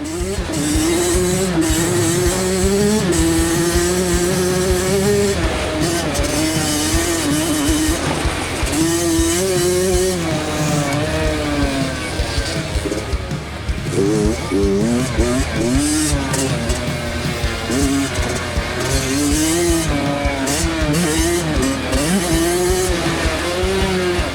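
A motocross dirt bike engine is restarted and then races hard, its motor revving and shifting loudly and continuously over a long stretch, with a voice speaking over it.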